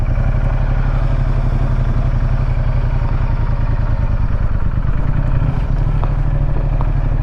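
A Ducati XDiavel motorcycle's engine runs with a loud, close, continuous low rumble and a fast, steady pulse, with faint mechanical clatter over it and no voices.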